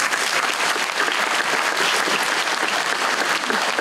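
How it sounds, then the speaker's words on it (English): Steady, dense applause from a crowd gathered at a high school ribbon cutting, sustained at even loudness throughout without a break. "Y'all give yourselves a round of applause."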